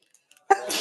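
A single sharp sneeze bursts out loudly after a quiet stretch of faint sounds, its noisy breathy tail trailing off, with a man's response following in an indoor conversation.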